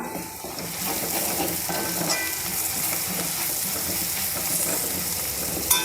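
Curry leaves dropped into a pan of onions frying for a soybean curry set off a steady, close crackling sizzle that runs without pause, with no voices over it.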